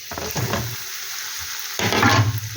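Fish head for a Bengali muri ghonto going into hot frying oil and being stirred, with two bursts of loud sizzling and scraping, a quieter gap between them, and no talk.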